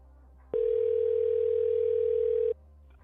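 An outgoing phone call on a radio show gives a steady ringback tone, one continuous two-second beep, loud and clear, with faint talk before and after it.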